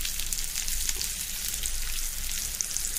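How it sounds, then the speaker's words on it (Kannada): Semolina-coated bitter gourd slices shallow frying in oil on a hot tava, a dense, continuous hiss of bubbling oil with tiny pops, close and steady throughout, no talking. "ಈಗ ಇದನ್ನು ಎಣ್ಣೆಯನ್ನು ಹಾಕಿ ನಾವು ಶೆಲೋ ಫ್ರೈ ಮಾಡ್ಕೊಳ್ಳುವ"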